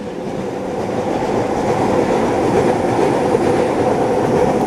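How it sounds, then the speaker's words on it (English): An elevated SkyTrain rolls overhead on its viaduct with a steady, loud rumble of rail noise that holds nearly level throughout, with no voices. "This is the SkyTrain viaduct, or what do you call it, the SkyTrain line. It's going over now."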